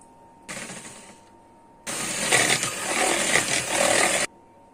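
A hand or electric mixer beats milk into chocolate cake batter in two loud bursts, a short one and then a longer sustained whirring run of about two and a half seconds, with quiet pauses around them.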